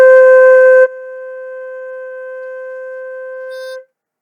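A flute holds a single sustained C, clean and steady with a clear pitch, the tone thinning slightly after the first second before fading out near the end; no voices.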